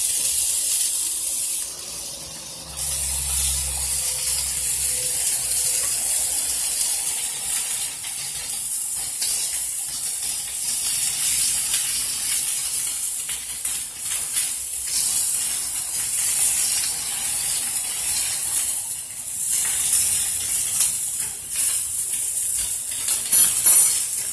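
A garlic-stuffed steak sizzles face down in a hot pan, a loud, steady hiss that holds for the whole stretch with small crackles and no talking.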